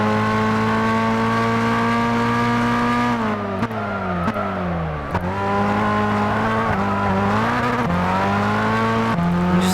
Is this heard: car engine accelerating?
yes